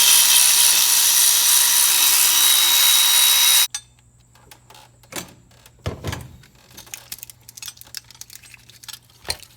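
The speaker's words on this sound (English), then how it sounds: "We're going to remove this 10mm bolt." A power tool whirs loudly for a few seconds, removing a 10mm bolt from the valve cover of a 2004–2015 Nissan Titan, then cuts off abruptly, followed by scattered clicks and clunks of metal parts being handled.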